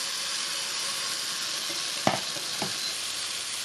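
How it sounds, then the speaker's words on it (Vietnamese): Eggplant sizzles steadily in a pan over high heat, a loud, continuous frying hiss with a couple of brief clanks from the pan being shaken or stirred partway through. "Chiên ở lửa thật lớn luôn để cho cà không bị ra nước."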